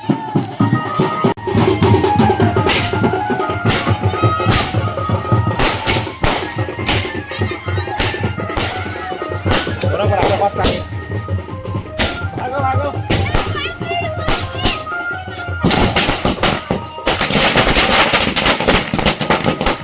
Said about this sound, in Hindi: तो भाई अब फोड़ने वाला है भाई स्काई शॉट ला तो देखो भाई